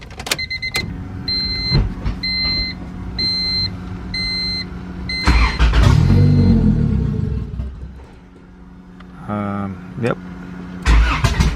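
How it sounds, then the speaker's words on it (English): A B20 VTEC Honda engine on a fresh tune is cranked and catches, with a warning chime pulsing steadily beforehand and a rumbling idle that rises and falls under brief talk, ending in another short crank and start. "So let's see if it starts."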